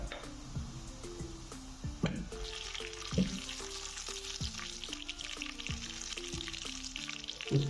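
Cumin seeds sizzle and crackle in hot oil, a steady frying hiss with light clinks and taps of a utensil against the pan.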